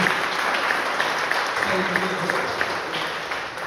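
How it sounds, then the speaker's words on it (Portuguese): A church congregation breaks into applause for the Lord, a dense, steady wash of clapping with voices talking over it. "Salva de palmas do Senhor Jesus."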